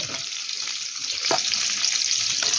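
Pointed gourd pieces sizzle steadily in hot oil while being fried for a korma, a close, continuous crackle with occasional light utensil scrapes as they are lifted out.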